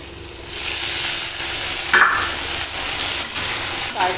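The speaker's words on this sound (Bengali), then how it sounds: "এবার আমি লঙ্কা দেবো, ফোড়ন, একটু পাঁচফোড়ন দিয়ে এবার আমি পেঁয়াজগুলোকে ঢেলে দেবো। এবার পেঁয়াজটা একটু ভেজে নিয়ে" Onions fry in hot oil with panch phoron and chili in a pan before gourd peels go in, a loud, steady, close hiss of sizzling with a few stirring scrapes and no speech.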